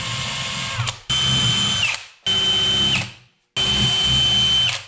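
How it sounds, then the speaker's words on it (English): A power drill whines in three long bursts separated by short pauses, drilling partway into skis to mount bindings, loud and close, its pitch dipping as each burst winds down. "Now the moment of truth, you're gonna drill through your skis."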